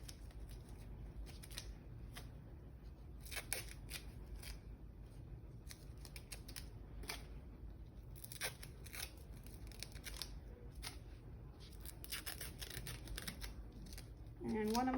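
Scissors snip medical tape into several pieces while a nasogastric tube insertion is being prepared, producing a series of sharp, close cuts spread across a quiet room, with a brief voice at the very end.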